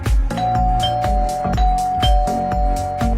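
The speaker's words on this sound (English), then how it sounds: "Indoor Chime." A HiFocus smart Wi-Fi video doorbell's indoor chime plays a loud, steady electronic melody of sustained tones over a regular, repeating beat.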